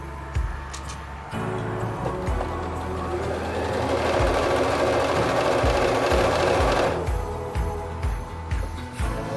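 A sewing machine hums steadily at high speed while chain piecing quilt blocks, close and continuous with brief pauses and soft clicks at the start and end, no talking.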